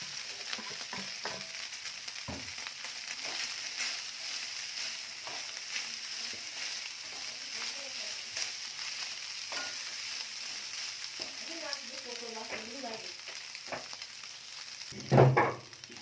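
Chicken frying in a pan for shawarma, a constant soft sizzle under repeated scraping stirs, with a louder clatter near the end.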